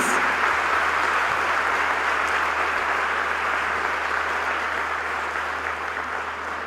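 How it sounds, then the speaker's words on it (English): Sustained audience applause fills a large hall at a women's university convocation in Lahore, honoring recipients of degrees, awards, medals and shields; steady, dense clapping that holds throughout and eases slightly toward the end. "please give a big round of applause to the recipients of degrees, awards, medals and shields"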